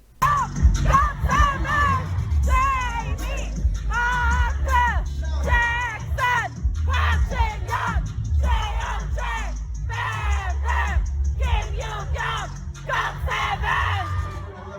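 A concert crowd at a show in Frankfurt screams and cheers in loud, continuous waves of high-pitched shouts and yells, packed and close, with repeated surges throughout.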